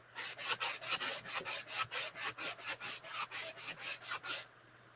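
A sanding block from a dollar store rubs back and forth over painted wood in about fifteen quick, even strokes, close and fairly quiet, then stops.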